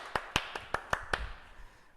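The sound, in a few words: applause for a participant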